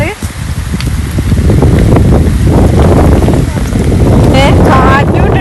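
Strong wind buffets the microphone in continuous low rumbling gusts, with voices talking over it and some sharp rustling toward the end.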